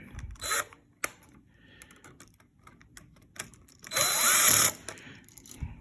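A screwdriver tightens a terminal screw while a household light switch is being replaced: short scraping, ratcheting bursts near the start and a longer, louder grinding stretch later, close up with no talking.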